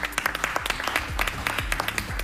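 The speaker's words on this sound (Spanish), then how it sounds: "despedimos con un fuerte aplauso" Audience applause sending off a L'Oréal-UNESCO For Women in Science award winner, steady clapping with distinct hand claps audible amid the wash.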